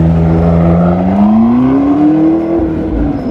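McLaren sports car engine revving up, a loud, steady near drone that climbs smoothly in pitch over a few seconds with no talk.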